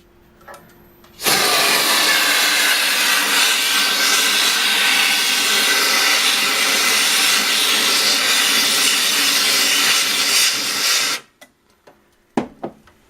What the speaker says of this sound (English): Turn the air canister upside down.